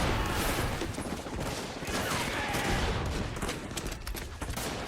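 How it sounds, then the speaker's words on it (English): Machine gun fire rattles through a battle scene in a war series, a dense, continuous fusillade of overlapping shots and booms that stays loud for the whole stretch with no clear pauses. "just running right in the machine gun fire."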